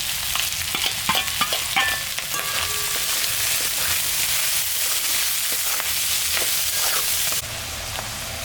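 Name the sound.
vegetables frying with salt and turmeric, being stirred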